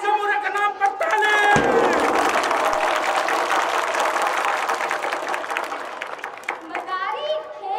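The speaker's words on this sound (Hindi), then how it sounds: "लोगों बजाओ सिमुरे के नाम पर ताली।" A crowd at a street performance claps and cheers, the applause swelling after a second and continuing densely, with children's voices and other voices mixed in over the clapping.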